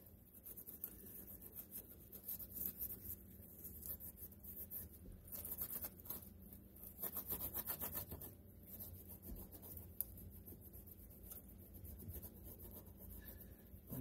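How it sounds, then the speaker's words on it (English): A razor blade scrapes old silicone off a 140mm jet pump for a 1996 GTI personal watercraft, giving faint, close, irregular rasping and rubbing strokes with no talk. "We scraped it some with a razor blade."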